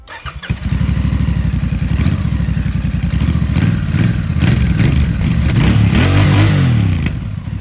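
A Royal Enfield Bear 650 with a 2-in-1 exhaust runs loud and close, its throbbing engine pulsing steadily. A thump at the start is followed by sustained revving and a slight rise in pitch toward the end.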